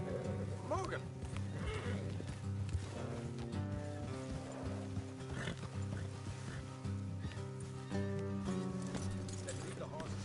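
Horses whinny and hooves clop in the Red Dead Redemption 2 video game, under a continuous musical score with voices mixed in.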